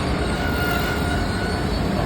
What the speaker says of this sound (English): The Acela train started.